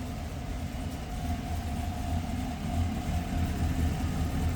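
A GM L83 V8 truck engine with a swapped cam and deleted cylinder deactivation idles steadily at first start-up, a continuous low rumble with a faint thumping lope, heard close without talk.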